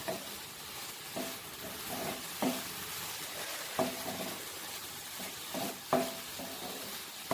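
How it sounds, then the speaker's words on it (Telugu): Carrot halwa being stirred in a pan on the stove: a soft, steady sizzle with repeated scraping strokes of the spoon against the pan at a slow, regular rhythm, close by and with no talk. "ఒక వన్ మినిట్ ఇలా కలియ పెట్టేసి స్టవ్ ఆఫ్ చేసి ఒక బౌల్లో సర్వ్ చేద్దాము"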